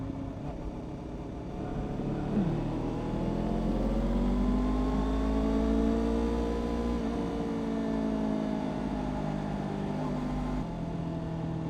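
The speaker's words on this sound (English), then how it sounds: "Feels so cool just being a big old pack of bikes, dude, just ripping on back roads, man." Kawasaki Ninja 500 motorcycles ride together in a pack along back roads, engines droning steadily with rising and falling revs as they accelerate, wind rush beneath, loud and continuous with no talking.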